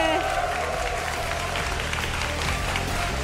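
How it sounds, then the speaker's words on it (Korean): Audience applause fills a hall at a StarCraft semifinal match event, a steady wash of clapping under a commentator's voice and low background music. "아, 뭐 박수가."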